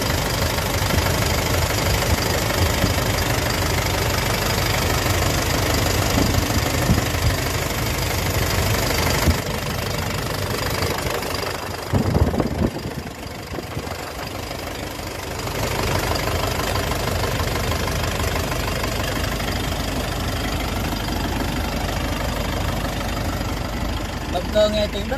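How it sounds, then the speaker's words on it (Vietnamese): Cummins diesel engine of a JAC N800 8-ton truck idling close by, a steady loud rumbling clatter that dips briefly partway through, with a voice talking over it. "mời em quay giúp khách hàng là coi cái tiếng động cơ"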